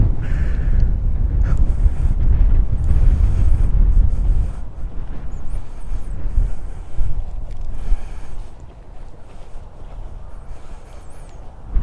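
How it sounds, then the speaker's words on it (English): Strong wind buffeting the microphone at Epsom Downs racecourse, loud rumbling gusts that swell and ease over several seconds, dropping back before a final gust at the end. "Ooh, windy."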